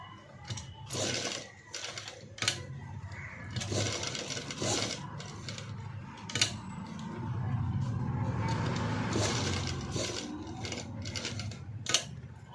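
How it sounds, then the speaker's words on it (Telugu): A sewing machine runs steadily, stitching buckram along the edge of a padded, sleeveless cut-work blouse, with a continuous close mechanical whir broken by brief pauses and ticks. "ఇలా నీట్గా బక్రం పక్క నుంచి స్టిచ్ అనేది నీట్గా వేసుకోవాలి."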